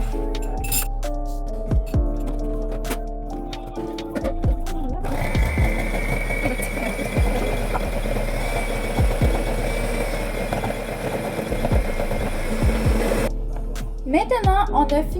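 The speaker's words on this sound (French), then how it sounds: "Vous allez brasser au batteur électrique encore une fois." An electric mixer beats banana bread batter of butter, vanilla, sugar and mashed bananas, a steady whirring drone running for several seconds with clinks against the bowl, while a voice talks in French around it.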